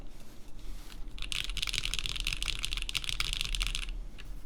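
Rapid, dense typing on a QK Alice Duo mechanical keyboard, a steady flurry of close, crisp keystrokes that builds after a soft start and runs for several seconds alone.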